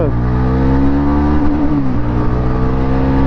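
A motorbike engine revs on a ride, a loud continuous drone whose pitch climbs then dips and steadies, close and without talk.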